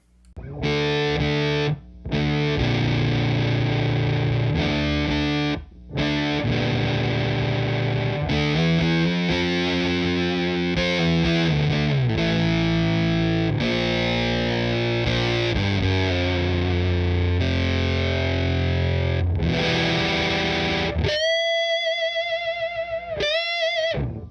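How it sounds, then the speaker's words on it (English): An electric guitar played through a Big Muff fuzz pedal on the bridge pickup rings out in thick, sustained distorted chords and notes, loud and alone, ending on a clean ringing tone. "we'll go to the Big Muff, and I'm back on the bridge pickup as well"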